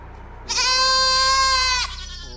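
A goat gives a single loud, clear bleat lasting over a second, a strongly harmonic, wavering cry close to the listener with a faint low hum underneath.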